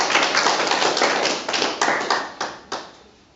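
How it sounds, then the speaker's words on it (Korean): Audience at a Korean association's quarterly board meeting clapping, a dense burst of handclaps that thins out into a few separate, fading claps near the end. "우리 박수 한번 부탁드립니다."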